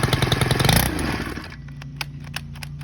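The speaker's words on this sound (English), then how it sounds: "Now I got it running." A STIHL KM91R string trimmer engine with a newly replaced carburetor runs on choke, a loud buzzing roar that drops to a rougher, sputtering idle with uneven pops, close and alone.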